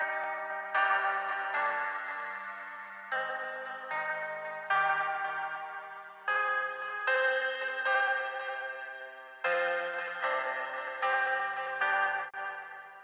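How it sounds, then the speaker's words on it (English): Sustained synth chords processed through a delay and reverb plugin preset, bathed in long, spacey reverb and echoing delay, each new chord swelling in and trailing off into a washy tail. "it sounds like it's adding some delay, some reverb, and it's got some really spacey reverb"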